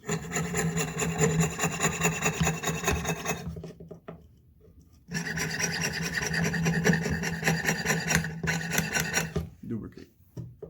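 Hand saw blade cutting through a workpiece, close and loud, with dense rasping push-pull strokes that pause briefly before resuming and then trail off.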